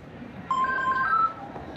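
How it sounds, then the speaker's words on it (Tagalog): A phone chimes once with a short, bright two-tone text message alert, clear over quiet room tone. "May nag-text sa'yo."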